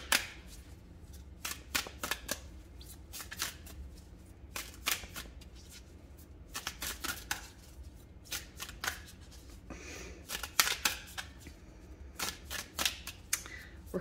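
Tarot cards being shuffled by hand, repeated riffling bursts in irregular clusters across the stretch, close and fairly soft, with no talking.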